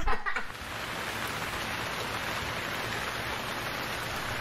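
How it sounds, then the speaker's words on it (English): Continuous soft rain hisses evenly as a background sound effect in a Playmobil family story, after a brief louder rustle at the start. "The rain never ends."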